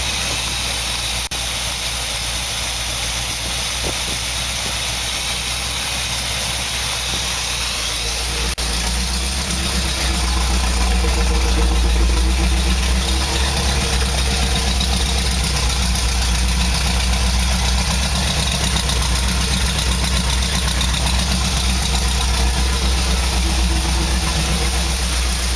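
A car engine idles after a valve adjustment and poly lock installation, a steady low rumble that deepens and grows slightly louder partway through, with no talking.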